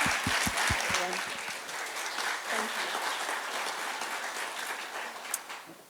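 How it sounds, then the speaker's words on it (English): Audience at a forum breaking into sustained applause, dense clapping that starts with a few sharp claps and holds steady, fairly close, with faint talk underneath. "Can you please give all of our speakers a nice big round of applause?"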